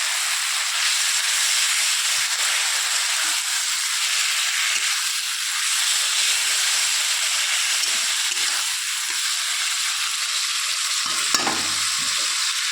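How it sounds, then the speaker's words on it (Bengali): Fish oil sizzles and hisses steadily in a hot pan, loud and close, with a constant frying crackle and a brief clatter near the end. "মাছের তেলটাকে আমি মধ্যে দিয়ে দিচ্ছি"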